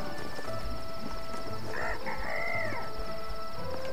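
A rooster crows in the Trine 2 fantasy game: one drawn-out cock-a-doodle-doo in the middle, clear and fairly close. It plays over a steady musical and ambient game background with a constant high tone.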